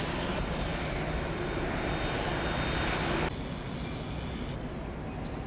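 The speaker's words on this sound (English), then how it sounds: "FedEx A300 on Juliet, taxiing to 19 right." A FedEx Airbus A300 jet taxis at Tampa International Airport with a steady, loud engine roar and high whine that drops noticeably about three seconds in. The sound then continues at a lower level.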